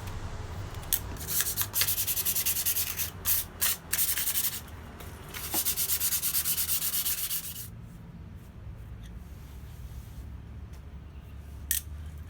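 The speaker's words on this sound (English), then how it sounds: "scuff it a little bit with a fine piece of sandpaper" Fine sandpaper scuffing a hand-forged metal trivet, with rapid bursts of rough, hissy rubbing for about seven seconds, broken by short pauses, then quieter with a few faint scrapes and one brief sharp rub near the end.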